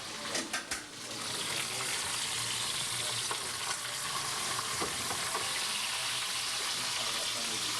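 Skin searing in a hot pan, starting with a few sharp clanks and then settling into a loud, dense, continuous sizzle with occasional pops and crackles, heard up close.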